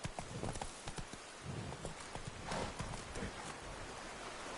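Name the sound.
horse galloping, from the video game The Witcher 3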